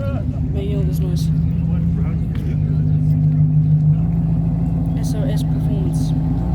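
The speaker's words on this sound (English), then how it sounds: "It's a little Mini Cooper. Making all this noise." A little Mini Cooper engine drones steadily at a busy car meet, with a loud, constant rumble under people talking nearby.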